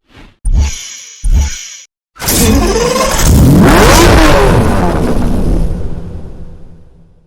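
Revving from a Lamborghini Murcielago LP670-4 SV engine in Need for Speed Hot Pursuit: two short sharp blips, then a loud sustained climb to a roaring peak that slowly fades, very close.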